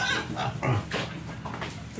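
Pigs at a piggery, including a boar, grunt and snort in a busy, overlapping stream of close, moderately loud animal noises, with some faint background voices and farm sounds.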